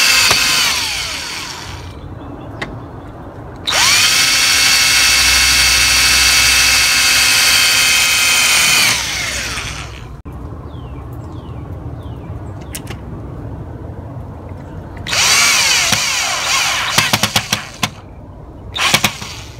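A power drill drives screws into the striker plate of an Andersen 2000 storm door latch, heard as two long high-pitched whirring bursts and a shorter one, loud and close, separated by quieter pauses.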